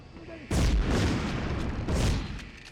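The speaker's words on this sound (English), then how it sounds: "Oh, God, he threw a grenade!" A grenade in the Medal of Honor video game goes off with a sudden loud boom that rumbles on, then a second blast swells shortly after, both close and heavy.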